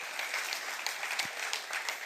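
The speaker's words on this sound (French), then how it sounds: "oui, on peut applaudir le Seigneur" Applause from a church congregation during a worship service, a steady dense wash of clapping across the whole stretch with no talk over it.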